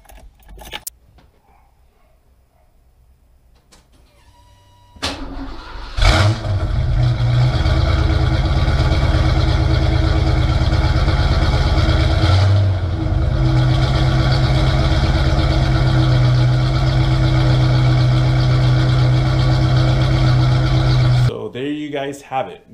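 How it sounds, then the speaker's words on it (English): A car engine cold-starts after a quiet moment, cranking and firing up, settling into a loud, steady exhaust rumble that holds for about fifteen seconds before cutting off. "let me give you guys a little sound clip of the exhaust."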